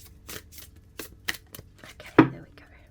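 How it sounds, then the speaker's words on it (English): A deck of oracle cards is shuffled by hand in a handful of short, crisp riffling bursts spaced about a second apart, close and fairly loud, ending in a sharper slap. "I'll do a couple more shuffles actually."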